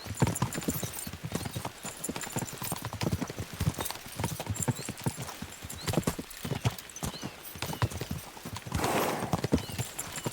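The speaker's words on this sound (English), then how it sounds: "We should spur the horses on." Rapid, continuous hoofbeats of galloping horses in Kingdom Come: Deliverance 2, loud and close, pounding in a fast rhythm with a rushing background.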